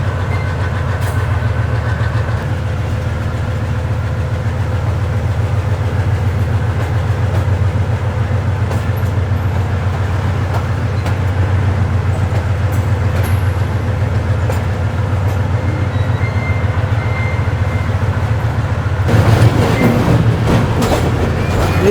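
The Karachi Express, number 16 Down, hauled by an AG30 diesel locomotive, gives a loud, steady rumble of running wagons and engine drone with rhythmic clatter, rising to a rougher burst of rattling near the end.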